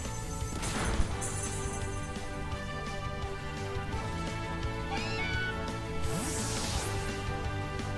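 A Meowth's cry sounds in a Pokémon video game, a short cat-like meow call rising over steady background game music with no talking.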